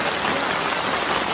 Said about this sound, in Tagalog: Medyo mahina ng ulan.